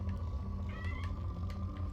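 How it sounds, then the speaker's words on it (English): A house cat lets out a brief, faint meow close by, set against a constant low hum of background game sound. "cat is literally just sitting here meowing at me"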